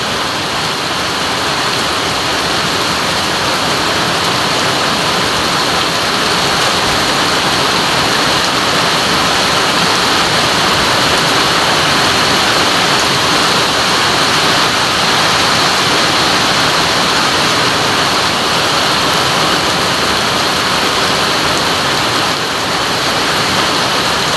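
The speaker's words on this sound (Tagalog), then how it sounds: "Lakas ng ulan." Heavy rain pours down in a dense, unbroken roar that stays loud and steady throughout, with no pauses or voices.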